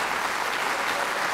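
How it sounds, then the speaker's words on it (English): Steady applause from an audience at a town board of selectmen meeting, a dense even wash of clapping with no gaps, fairly loud and continuous throughout the short stretch. "we appreciate the applause"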